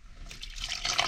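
Water pours briefly into a container while lamb milk formula is being made, a close, rising splash that gets brighter as it fills.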